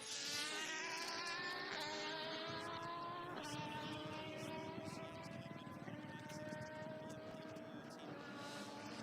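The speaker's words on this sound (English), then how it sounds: "Did you hear the way it was shifting up and it was accelerating into the distance, and you can hear each gear shift?" An IMSA race car at the Rolex 24 at Daytona accelerates and shifts up through its gears, its engine note dropping at each shift as it pulls away into the distance, steady and fairly loud throughout.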